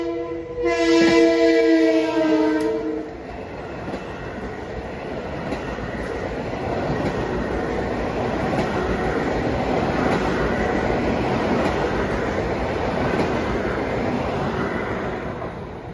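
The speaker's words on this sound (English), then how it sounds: "the gates are down for train 1657 from Huntington to Grand Central" A Long Island Rail Road train bound from Huntington to Grand Central passes a gated crossing near Cold Spring Harbor station, opening with a loud multi-tone horn blast, then a long steady rumble and clatter of cars rolling by close.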